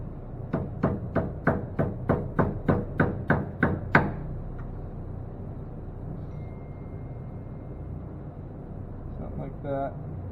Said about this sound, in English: We're going to use our ball peen.